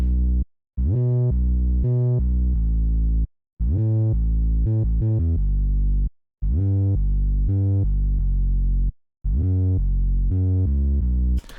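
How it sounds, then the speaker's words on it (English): A deep 808 bass line triggered from a one-shot sample in FL Studio plays alone, loud and sustained, in four phrases of held and stepping notes separated by short silences. "And then I went and drew in a bass line"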